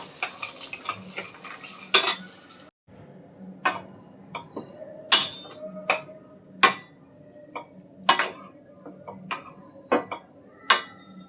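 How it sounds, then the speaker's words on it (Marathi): Pumpkin and watermelon seeds are dry-roasted in a pan for dry-fruit ladoo, a soft rustling fry under irregular sharp clicks and scrapes of stirring, near and fairly quiet. "भोपळ्याच्या आणि का टरबूजच्या बिया पण त्याच्यामध्ये मी परतून घेतो"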